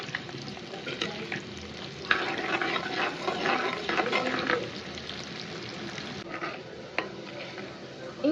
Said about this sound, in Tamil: மீன் குழம்புக்கு எப்பயுமே ஆனியனை வதக்கிக்கோங்க